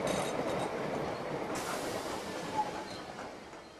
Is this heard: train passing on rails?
yes